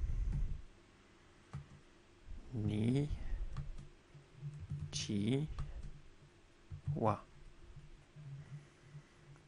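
Someone types Japanese text input on a computer keyboard, and light, quick key clicks run under a nearby voice that talks in short bursts.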